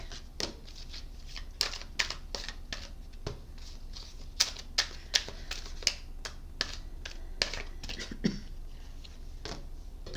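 Tarot cards are shuffled by hand in a steady run of crisp snaps and riffles, close and fairly quiet, with no talking over them.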